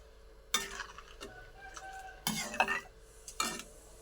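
A spoon stirs bubbling sugar syrup in a pan while kalakanda sweet is made, giving three or four separate scraping, clinking strokes against the pan over a faint background, close and fairly quiet, with no voice.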